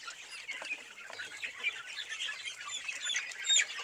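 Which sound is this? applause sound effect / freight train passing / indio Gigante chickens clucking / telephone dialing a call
indio Gigante chickens clucking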